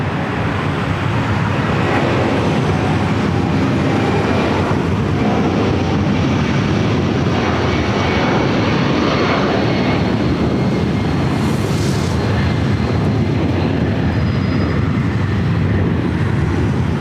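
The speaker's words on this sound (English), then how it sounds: "Do have a Delta 757 rolling down at 7 left." Delta Boeing 757 rolling down runway 7 left at LAX in rough weather, a dense, continuous low roar mixed with wind and ambient noise, loud and unbroken throughout.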